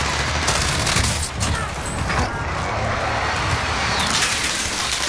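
Gunfire in the game Warzone, a steady dense fusillade of rapid shots that carries on without a break, loud and close, with faint vehicle rumble mixed underneath.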